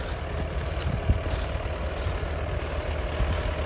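A 6120 tractor running a PTO-driven potato lifter in a wet field of Jersey Royals, giving a steady, loud low engine drone with mechanical rumble and no pauses.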